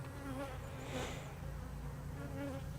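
Nurse honey bees crawling over a brood frame during a hive inspection give a steady, dense buzzing drone that fills the whole stretch, close and even without pause.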